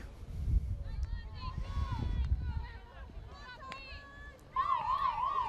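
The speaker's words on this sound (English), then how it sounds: "And there's the siren." A loud halftime siren rises with a wavering, warbling tone after voices and crowd noise from a high school field hockey playoff game.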